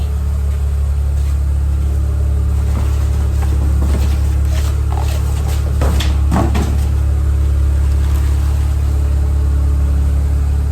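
A Honda car engine idles steadily and loudly throughout, with a deep constant hum and a few faint knocks and clatters on top.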